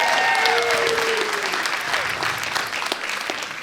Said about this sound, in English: Round of applause for John, man.